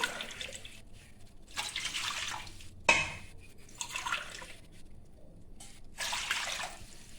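Three glasses of water are poured into a cooking pot in several bursts with a splashing, running sound, pausing between pours; no talking.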